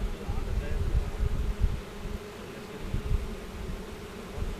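Honeybees buzz around a school beehive in spring, a continuous low droning hum with gusts of wind noise buffeting the microphone and no speech.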